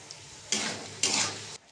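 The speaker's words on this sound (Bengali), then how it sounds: "এবার আমি সর্ষের গুঁড়ো দিয়ে একটু নেড়ে চেড়ে নেব।" A spoon stirs soaked mustard paste into a mash of pointed gourd and jackfruit seeds in a pan, making two short wet scraping bursts over a soft background sizzle.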